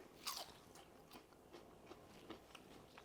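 A crispy unseasoned French fry crunches under a bite at close range, one sharp crunch followed by several lighter chewing crackles.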